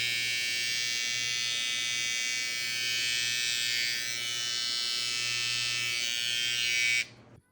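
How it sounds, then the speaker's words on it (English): Cocco Hyper Veloce Pro hair trimmer running continuously with a bright, high-pitched electric buzz and faint low hum, loud and close, steady for several seconds before abruptly switching off. "the Cocco trimmer is that it does get louder as you use it"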